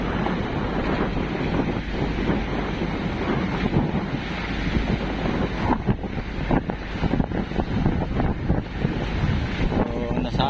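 High ocean waves splash and crash against a small fishing boat at sea, with strong wind buffeting the microphone in loud, irregular gusts over a continuous rushing roar.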